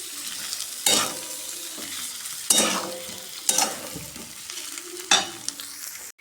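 Masala roasts in a pan with peanuts and eggplant, a steady sizzle broken by four loud spoon scrapes at regular intervals.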